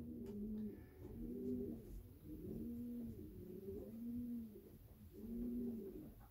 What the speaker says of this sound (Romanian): O să trec acum și la compartimentul masculilor, unde o să vedeți și acolo porumbeii cum arată